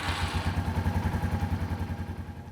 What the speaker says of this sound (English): run the bike for a minute